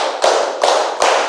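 Three sharp hand claps in an even rhythm ring out in a classroom clapping game, loud and close with a short room tail after each.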